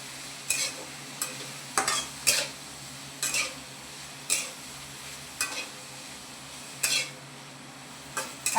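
Bitter gourd (karela) frying in hot oil with turmeric, tomato and coriander, a low steady sizzle under regular scraping and clinking strokes of a spoon against the pan, about a dozen stirs close up with no talk.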